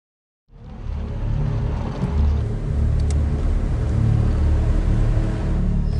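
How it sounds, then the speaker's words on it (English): A Turkish military spy plane circles overhead, heard as a steady low droning rumble that swells in slightly after a brief silence and holds constant for several seconds, with no talking. "So she's saying this is the sound of the spy planes."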